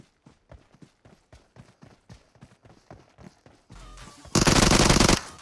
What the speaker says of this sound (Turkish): Çok güzel vurdu Uzi ile valla.